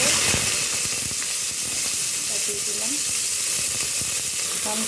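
Cumin seeds and cashews fry in hot oil in a home kitchen, giving a steady close sizzle with light stirring and scraping noises throughout.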